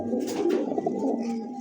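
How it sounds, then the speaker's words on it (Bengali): A red-necked high flyer pigeon coos in low, rolling, throaty notes, close and steady, with no talk over it. "এক জোড়া দেখতেই পাচ্ছেন হাই ফ্লায়ার কবুতর লাল গলা"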